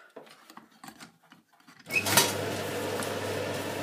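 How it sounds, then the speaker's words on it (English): A tumble dryer starts up and runs with its door open, a sudden loud rumbling whir with a low steady hum after a stretch of quiet handling clicks and knocks. "Yep, the dryer's running with the door open."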